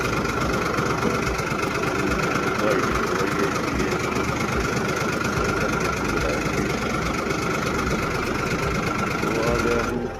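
A tractor engine idles in a crop field, a steady low mechanical rumble with a faint knocking pulse that holds throughout, close and continuous, with a voice talking over it.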